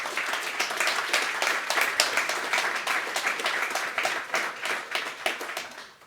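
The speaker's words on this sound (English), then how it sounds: "Give her a good applause." Audience applause at a tech conference talk, a steady dense wash of clapping hands that holds throughout and fades away at the end, with no talking.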